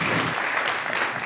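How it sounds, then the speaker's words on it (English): Brief burst of audience applause at a church gathering, a dense, fairly close patter of clapping lasting only a moment. "Give Noah a massive round of applause, won't you?"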